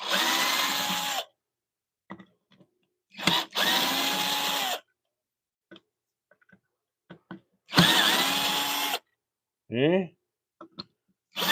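A power driver backing screws out of a square-drive hold in a woodturning shop, heard as three loud whirring bursts separated by quiet pauses, with a short spoken word in between.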